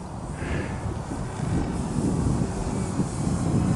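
A small ultralight model airplane drones overhead in flight, its engine a steady, moderately loud buzz mixed with wind rush on the microphone, continuous throughout with no talking.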